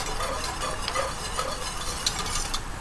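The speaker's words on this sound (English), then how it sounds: "Stir it." Food in a pot is stirred while it simmers and sizzles, with soft scraping strokes repeating over a steady low frying hiss, faint and close, with no voices.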